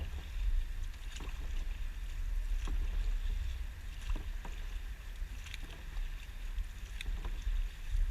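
Dragon boat paddles stroking the water during a team practice, outdoor splashes and knocks at a fairly even pace over constant wind and water noise.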